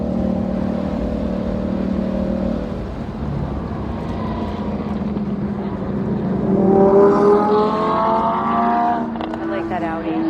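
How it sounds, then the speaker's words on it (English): Porsche race car engines howl at Circuit of the Americas, heard from inside a car on a ride-along, with a steady engine drone that swells and rises in pitch midway, while people talk over it. "Love the sound of those Porsches. They howl."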